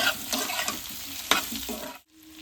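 Chopped tomatoes and vegetables frying in a pan for egg chilli are stirred with a spoon, scraping and clinking over a steady sizzle that cuts out abruptly near the end, no voices.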